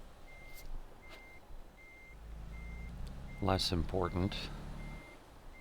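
Truck reversing beeps in Euro Truck Simulator 2: a regular, evenly spaced electronic beep repeats throughout under engine rumble, with someone talking over the second half.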